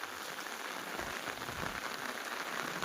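Heavy unseasonal rain pours steadily over farmland and a road, a dense, even hiss of drops striking surfaces with no pause, loud and close, and no voices.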